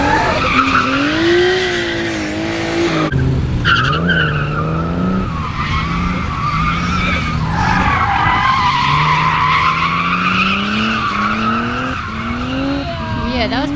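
A Nissan R32 Skyline drift car drifting, its tires squealing in long, loud, wavering skids as the engine rises and falls through repeated slides, with brief voices faintly in the background.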